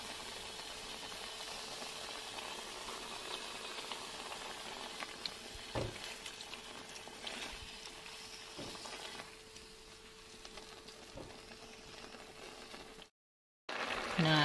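A steady bubbling simmer of chicken broth in a pot, with occasional clinks and stirring sounds, continuous at moderate level before a brief cut near the end.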